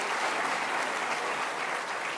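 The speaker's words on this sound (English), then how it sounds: "let's give her a round of applause." Steady audience applause at a high school awards ceremony, dense continuous clapping from a crowd that holds an even level throughout without a break.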